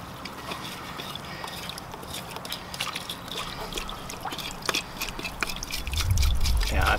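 Water runs and trickles at a washing station as bonsai roots of an American elm are rinsed, with soft steady splashing and drips that grow heavier toward the end, fairly quiet and close, with no talk.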